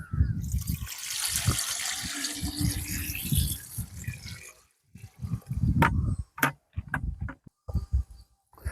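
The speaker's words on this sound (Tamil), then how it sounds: "ஸோ இப்போ இது ஃபுல்லாக ஊற்றிடுறேன்." Water is poured into a homemade sand water filter, a close trickling and splashing stream that runs steadily for several seconds, then breaks into shorter gurgling bursts, with someone speaking over parts of it.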